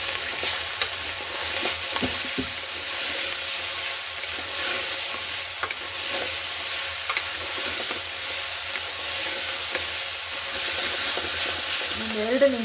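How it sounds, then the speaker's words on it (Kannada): Hyacinth beans frying in oil in a pan make a steady soft sizzle throughout, with occasional scraping from stirring and no voice over it. "ಇದು ಫ್ರೈ ಆಗಿದೆ ಅವರೆಕಾಳು ಹಾಕ್ಕೊಳ್ತೀನಿ"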